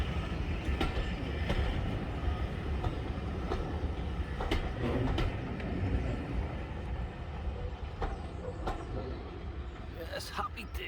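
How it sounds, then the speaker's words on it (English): A train bound for Whitby rumbles past through a North Yorkshire station with a steady low roar and faint rail clatter, occasional metallic squeals and clicks rising above the drone. "this train's actually off to Whitby"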